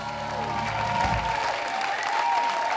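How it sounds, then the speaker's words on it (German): Theatre audience applauds and cheers at the premiere of the musical Hair by the Musical Theatre Academy at Stadttheater Bad Hall, a steady full wash of clapping with a faint tone and voices underneath. "Mit Standing Ovations und großem Jubel belohnte das Publikum das Ensemble der Musical Theatre Academy bei der Premierenvorstellung"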